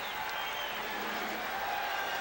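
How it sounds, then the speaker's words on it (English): Home crowd at the Forum in Inglewood during a 1991 NBA Finals game between the Bulls and Lakers, a steady indoor roar of cheering and applause filling the arena evenly without breaks. "Crowd trying to get the home club going."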